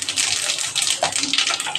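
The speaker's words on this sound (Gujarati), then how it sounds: "પાણી નાખી દઈએ." Water poured into a cooking pot of spiced oil for a cashew paneer curry, a close, continuous gushing splash lasting about two seconds with no talking.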